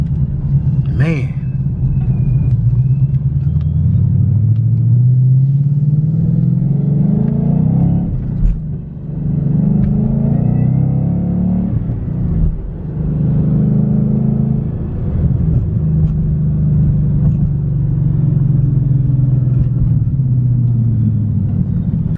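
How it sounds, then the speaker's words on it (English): Supercharged Ford Mustang GT engine rumbling loud and close, rising and falling through several revs with a thin supercharger whine riding above the low growl. "I love the way that supercharger whines too"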